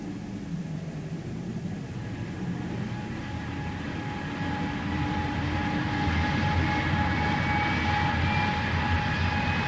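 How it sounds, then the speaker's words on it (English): A radio drama sound effect of an airliner's engines at a stand: a steady droning roar with a thin whine on top that swells slightly louder toward the end, with no voices over it. "Mr. Maslin, there's your second aircraft, safe and sound and ready to leave for Peking"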